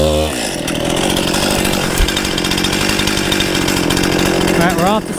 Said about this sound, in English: So I'm gonna have to very carefully start cutting this up and walking it down.